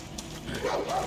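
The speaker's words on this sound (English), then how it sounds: "There was a dog over here that I saw also." A dog in the video game Far Cry New Dawn barks in a couple of quick, moderately loud yips over a faint game background.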